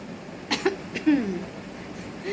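A person with a cough lets out two or three short, sharp coughs close to the mic, followed by some quieter throat and voice sounds at a low level.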